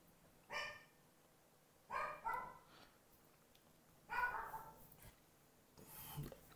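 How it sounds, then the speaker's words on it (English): A dog barks in the background in several separate bursts, some single and some doubled, at moderate level. Between the bursts there is only a faint hush. "And that's a dog barking in the background."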